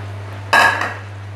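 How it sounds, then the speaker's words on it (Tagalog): A single loud metallic clank of a utensil against a cooking pot while stirring seafood kare-kare, close up over a steady low hum, with no talking. "So, haluin natin."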